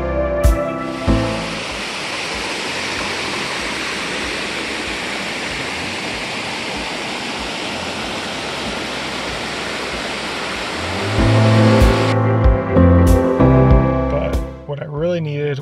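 Water from a small waterfall and stream at the Delaware Water Gap rushes in a steady, close hiss, then gives way to splashing and sloshing near the end.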